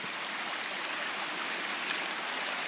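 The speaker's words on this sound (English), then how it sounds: "Raging river." A raging river at a bicycle-touring river crossing in the Italian Dolomites gives a steady, loud broadband rush of churning water, unbroken throughout with no voices.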